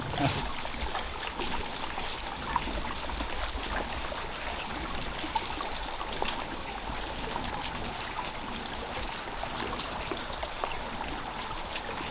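Ice chunks in a glacier lagoon in Alaska clink faintly and splash into the water, with light scattered ticks over a steady, trickling wash of moving water.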